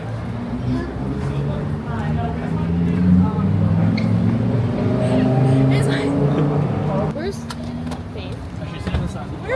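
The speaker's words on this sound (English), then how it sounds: "Big truck." A big truck rolls past with a loud, sustained low engine rumble that swells through the middle and fades near the end, while people talk over it.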